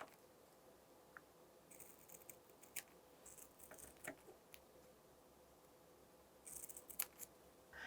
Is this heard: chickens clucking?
no